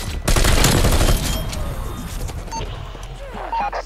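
Heavy bursts of rapid gunfire in a video game shootout, loud and dense at first, then easing into scattered shots and impacts, with a voice briefly audible underneath.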